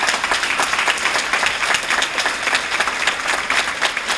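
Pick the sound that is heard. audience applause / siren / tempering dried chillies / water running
audience applause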